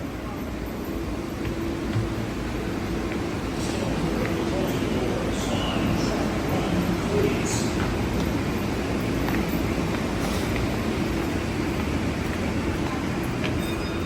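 Subway train at South Ferry station in Manhattan, New York City, a continuous loud rumble of railcars with faint wheel squeals and clatter, steady throughout with no clear talk over it.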